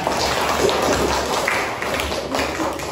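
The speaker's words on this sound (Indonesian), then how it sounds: "Tepuk tangan buat teman-teman yang sudah bertanya" A classroom of students applauds their classmates who asked questions, a dense, steady wash of many hands clapping at once for the full three seconds, close and fairly loud with no voices breaking through.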